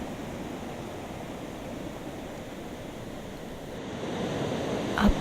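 Water of Burrard Inlet washing steadily as waves, a continuous soft rushing wash that swells slightly toward the end, with no voices.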